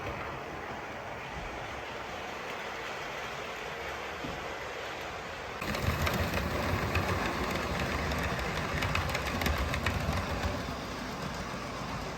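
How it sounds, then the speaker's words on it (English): Continuous rumbling of a model Royal Mail train running along a layout's track, a steady whirring drone that grows louder and busier midway, with no talking. "we'll have the happy sight of the Royal Mail train running around the village."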